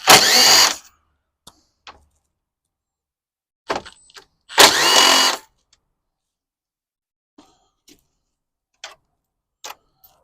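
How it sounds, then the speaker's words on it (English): On a 2007 Mazda CX-9, a power tool buzzes in two short, loud bursts while removing the 10 mm bolts on the transmission mount support, with faint metallic clicks and taps scattered in the quiet between. "we're gonna remove this one right here, but we have to remove these 2 bolts."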